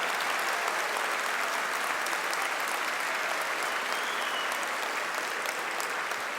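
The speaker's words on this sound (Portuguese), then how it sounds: "a quem eu peço uma salva de palmas" Steady, dense applause from a large audience fills the hall at the swearing-in ceremony of the national president of the Brazilian bar association (OAB), honoring lawyers who sang the Rio Grande do Sul anthem; sustained and even throughout, with no speech.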